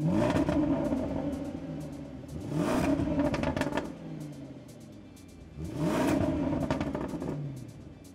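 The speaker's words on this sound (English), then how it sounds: "The potent new V8 supercharged engine is available in both" Supercharged V8 engine of a 2022 Land Rover Defender SUV accelerating off-road, rising in three separate revving surges with quieter gaps between them, close and fairly loud.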